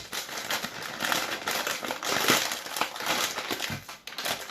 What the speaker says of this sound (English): I can't open up a bag of brown sugar.